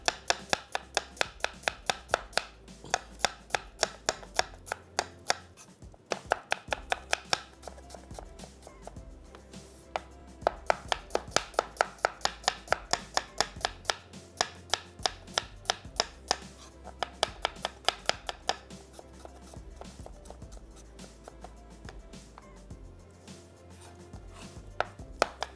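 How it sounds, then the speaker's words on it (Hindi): A knife finely chops three small onions on a board in rapid, even bursts of close, crisp taps, with short pauses between runs. "तो 3 अदद हमने छोटी प्याज लेनी है। और इसको हमने बारीक काट लेना है।"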